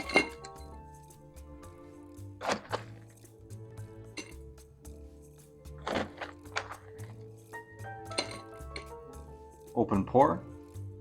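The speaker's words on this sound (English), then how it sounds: "Fill a Tiki old-fashioned glass with crushed ice." Crushed ice clatters and clinks into a Tiki old-fashioned glass in several scooping bursts, bright glassy rattles with a voice talking over them.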